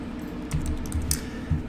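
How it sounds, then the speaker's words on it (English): Quick bursts of keys tapped on a computer keyboard, a handful of soft clicks in an irregular rhythm, close and fairly quiet with no talking. "as I was typing in the names"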